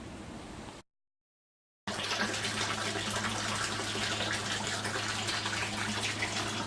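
Pond filter pump for a duck pen, fed through an orange vacuum cleaner filter, with water flowing and splashing steadily at close range under a low hum after a brief gap of silence.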